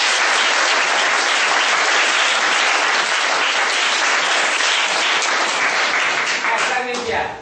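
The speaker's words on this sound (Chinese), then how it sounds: "掌声好不好？ 好， 谢谢各位手，再给黄安老师再鼓掌一次。" A school audience at a lecture tour stop in Guangfu, Hualien, gives teacher Huang An loud, dense applause that runs unbroken for several seconds before tapering off at the end.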